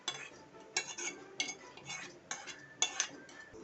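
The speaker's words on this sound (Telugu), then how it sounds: "మనం ఫ్రై చేసుకున్న ఆనియన్ మిక్చర్ వచ్చేసి ఆ బ్యాటర్లో వేసి బాగా మిక్స్ చేసుకోవాలి" A spoon stirs fried onion mixture into bun dosa batter in a bowl, a series of soft, rhythmic clinks and scrapes, close and fairly quiet, with no voices.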